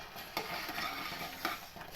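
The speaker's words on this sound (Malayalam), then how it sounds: "ഇനി നമുക്ക് കടുവറുക്കാം" Mustard seeds fry in hot oil with a busy crackling sizzle while a spoon stirs the pan, giving a few scraping knocks.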